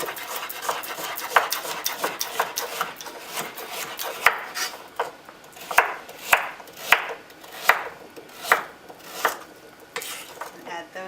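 Carrots being chopped with a knife on a board in a home kitchen: a run of crisp, close cutting strokes, irregular at first, then settling into a steadier rhythm of sharp taps, with no talking.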